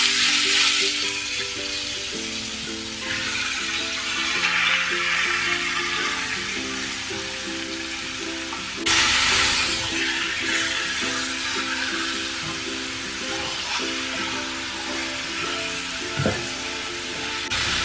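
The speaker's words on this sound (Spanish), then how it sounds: "Ahora ya tengo aquí los ajos bien doraditos, se los voy a dejar y ahora vamos a colocar la carne." Meat hits a hot pan of golden-browned garlic and sizzles steadily, a dense frying hiss that flares louder around midway and continues with faint stirring, no talking, while cooking filling for tortas ahogadas.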